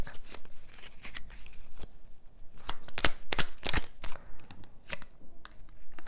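Tarot cards shuffled by hand at a reading, a close series of crisp riffling and slapping bursts with uneven rhythm and no talk.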